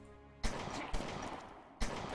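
Sharp bursts of gunfire crack out three times, loud and close, with a sustained noisy rumble between shots, in the video game Omertà: The Japanese Incentive.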